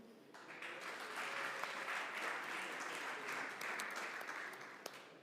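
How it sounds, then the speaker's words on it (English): A conference audience applauds workshop leaders, a steady wash of many hands clapping heard from a distance, faint and continuous for several seconds. "a warm round of applause as well for them"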